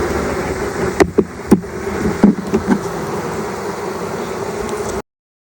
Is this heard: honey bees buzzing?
yes